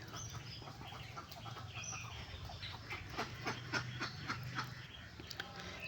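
Ducks and chickens kept inside a netted enclosure make faint, distant clucks and quacks in scattered bursts over a low background hum.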